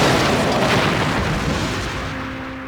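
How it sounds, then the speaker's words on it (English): A Borg cube fires its weapons in a Star Trek video game scene, a single heavy, rumbling blast that fills the whole clip and slowly fades. "The Borg cube is firing."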